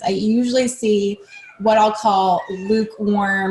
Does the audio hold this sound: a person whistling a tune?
no